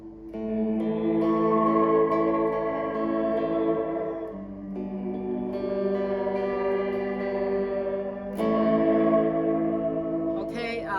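Strummed electric guitar chords pass through the tape echo mode of a Fender Reflecting Pool pedal, washing into long repeating trails with a slightly gritty tone, three strums spread over the stretch.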